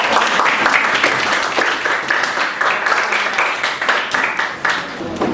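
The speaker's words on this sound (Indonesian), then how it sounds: "kita tepuk tangan dulu untuk kelompok" A classroom of students claps for a student group during a mathematics lesson, steady dense applause running loud and close for about five seconds.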